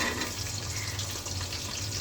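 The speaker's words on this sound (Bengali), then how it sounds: "শুকনো মশলাটা ভাজা হয়ে গেছে, এখন দিয়ে দেবো পেঁয়াজ।" Onions frying in oil with whole spices make a steady, moderate sizzling hiss throughout, close and even in level, without any speech.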